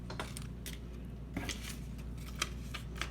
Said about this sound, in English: I'm going to cut these out and lay them down.